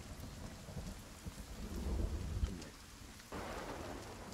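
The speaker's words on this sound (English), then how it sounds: "Oh, the lightning just struck." A thunderstorm rolls through the video game Sons of the Forest, with steady rain pattering and low rumbling thunder. A lightning strike brings a sudden sharp crack followed by heavier noise.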